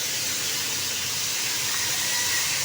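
Ginger and garlic fry in hot oil in a pan while pilaf is being cooked, giving a steady, even sizzle with no talking.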